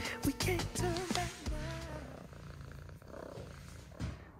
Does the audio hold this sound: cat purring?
yes